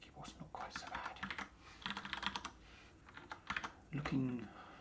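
Someone types on a computer keyboard, with quick clusters of fairly quiet clicks that come in uneven bursts separated by short pauses.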